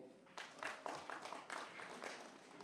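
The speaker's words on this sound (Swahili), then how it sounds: "jamani nipigeni makofi" Rally crowd applauding at an outdoor political event, a dense wash of clapping that swells after a brief quiet start and carries on steadily, somewhat distant and soft.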